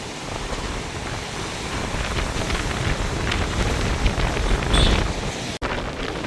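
Strong storm wind roars steadily at Point Pedro with a rough, churning sea beneath it, a dense broadband rush that swells louder near the end, with no talk.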